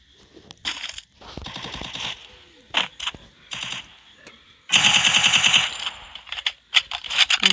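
UMP submachine gun fire in the video game Free Fire, with several rapid bursts of loud, close automatic shots separated by short pauses and a long sustained burst near the middle.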